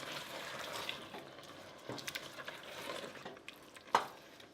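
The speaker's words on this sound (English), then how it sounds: "Give that a stir." Passata tomato sauce being stirred in a pan, soft wet swishing and scraping with a few faint clinks of the utensil against the pan, quiet and intermittent.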